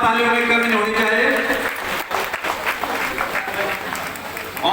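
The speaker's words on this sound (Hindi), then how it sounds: "ताली मिलकर होनी चाहिए।" Crowd clapping together at a political welcome rally for a Lok Sabha candidate in Kotdwar, loud and dense throughout, with voices mixed in over the steady applause.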